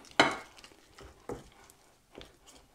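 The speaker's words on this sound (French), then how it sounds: "Alors je mélange d'abord la moutarde pour qu'elle se mélange bien." A wooden spoon stirs and knocks in mustard inside a bowl, giving a few soft scraping taps spaced about a second apart, close and quiet.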